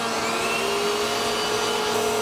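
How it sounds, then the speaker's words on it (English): A vacuum cleaner runs loud and close, a steady high whining roar with a constant tone and no breaks, and no voices. "and a vacuum cleaner."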